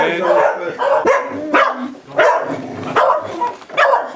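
Several dogs bark and yip repeatedly in an uneven series of sharp, loud barks close by, with whimpering mixed between them.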